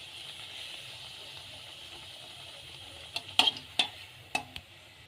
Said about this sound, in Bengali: লুচিগুলো বেলে নিয়েছি, এবার ভেজে নেবো এগুলোকে।